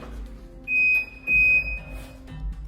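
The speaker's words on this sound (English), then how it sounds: "That's what the beeping is. It's the fridge." A fridge door-open alarm beeps twice in a row with a high electronic tone, fairly clear over a quiet room with faint low rumbles.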